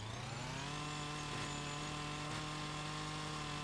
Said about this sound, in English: Sort of wave the chainsaw all over it.